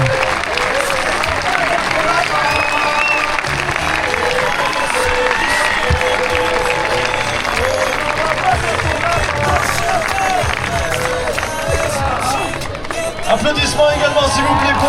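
Crowd at the final of a volleyball tournament in Annecy: steady, dense applause that runs through the whole stretch, with an announcer speaking over it in French.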